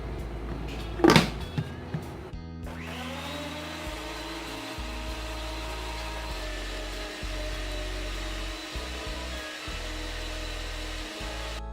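After a brief clatter of handling, a mixer grinder whirs loudly and continuously at close range, blending mint, honey, lemon juice and water for a summer drink, its motor pitch wavering slightly as it runs.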